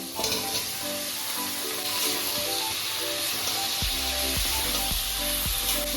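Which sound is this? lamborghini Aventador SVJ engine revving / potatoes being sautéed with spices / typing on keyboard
potatoes being sautéed with spices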